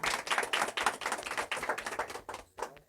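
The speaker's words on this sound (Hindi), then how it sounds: "तालियां बजाएं।" An audience at a welcoming ceremony with garlanding claps steadily for about three seconds, a rapid, somewhat distant patter of many hands at fairly low volume, tapering near the end.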